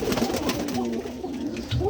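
A female Lotan pigeon coos softly in a few low, rolling calls at close range.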